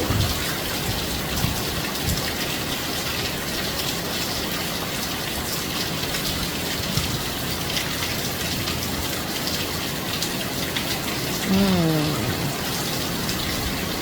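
Steady, dense downpour of heavy rain hissing across everything, continuous and loud with no pauses, a brief low rumble near the end.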